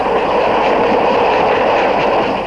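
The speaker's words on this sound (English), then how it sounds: "Trains came and went ceaselessly on the inextricable tangle of rails." Steam locomotive 231 D 735 runs on rails with a loud, constant rumbling roar of wheels and machinery, close and unbroken throughout.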